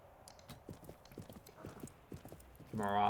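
Steady horse hooves clip-clop at a walking pace in the Viking-era video game Expeditions: Viking, the footfalls fairly close and even, ending as a louder game sound cuts in.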